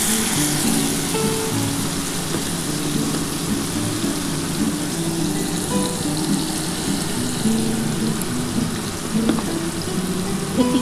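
Chicken tikka pieces sizzle and fry steadily in a pan over low gas, a constant close crackling hiss with a few light stirring scrapes, no talking.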